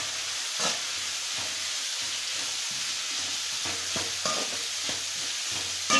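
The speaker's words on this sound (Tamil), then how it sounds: "நல்லா கிளறி விட்டுக்கலாங்க. இப்போ வந்து பச்சை மிளகாயும் சேர்த்துக்கலாம்." Jilebi fish puttu with green chili sizzles in a frying pan as it is stirred, a continuous close frying hiss broken by repeated scraping stir strokes.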